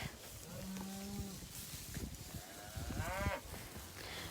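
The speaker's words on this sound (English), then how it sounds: "This is one of our Speckle Park cows" Speckle Park cattle on a farm with calf sheds low around, moo once and then again in a long, rising and falling call, loud and close over a busy background of shuffling and other farm noise.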